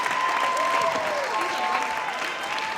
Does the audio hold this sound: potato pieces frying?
no